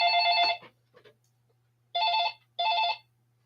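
A mobile phone rings in short electronic trilling bursts, three clear rings with pauses between, fairly close and alone with no talk over it.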